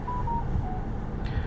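A mobile phone sounds short repeated electronic tones inside a 2023 Toyota Corolla LE during a test drive, beeping over a steady low cabin and road rumble.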